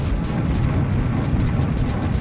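Grenade launcher explosions in the Serious Sam video game, a continuous rumbling roar of blasts with heavy low end, loud and close.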